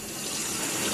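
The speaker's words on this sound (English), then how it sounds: "I'm right by the washer and dryer in case you're wondering what that noise is." A washer and dryer run in a home with steady, loud broadband rushing and whooshing, like flowing water, that stays constant throughout with no voices.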